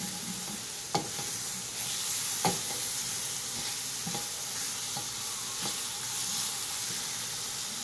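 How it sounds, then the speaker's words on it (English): Eggplant frying in oil in a pan for sweet and sour baingan, a steady sizzle with a handful of sharp scrapes and taps of a spatula along the pan bottom, close by with no talk. "You can start scraping the bottom of the pan so it can get all the nice color from it."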